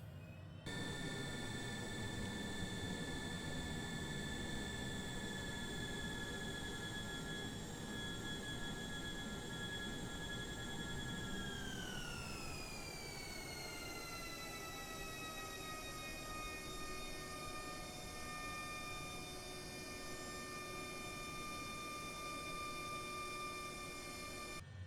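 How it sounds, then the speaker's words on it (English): Steady engine whine of an MG HJet light jet taxiing to the runway in Microsoft Flight Simulator, loud and continuous throughout, with tonal hums that slide in pitch about halfway as thrust changes, no talking. "Let's taxi on out onto the runway and take on off."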